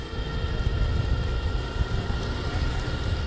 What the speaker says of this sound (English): So we're now catching the train back to LA.